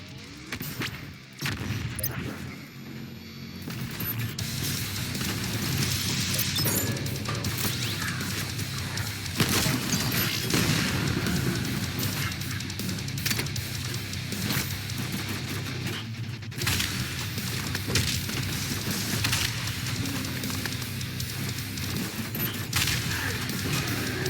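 Doom Eternal's BFG 10,000 firing as a sustained, loud roar of heavy blasts and rumbling booms that runs continuously for over twenty seconds, dense and wall-to-wall with no pauses.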